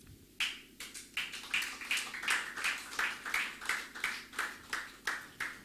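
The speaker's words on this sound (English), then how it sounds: "Can we clap?" An audience at a speech marathon claps in a steady rhythm, about a dozen evenly spaced sharp claps at moderate volume, with no talking.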